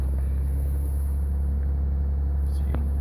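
A 2016 Ram EcoDiesel truck engine idling steadily just over 1,000 rpm in the cold with the heater on, a continuous low diesel rumble that stays close and even throughout.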